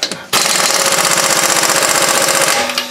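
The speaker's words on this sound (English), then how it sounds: "Now we're going to go down underneath and unbolt the strut from the bottom." A tool rattles loose the lower front strut bolt on a 2006 Honda Odyssey in a loud, close, continuous hammering burst of rapid impacts that lasts a couple of seconds after a brief pause.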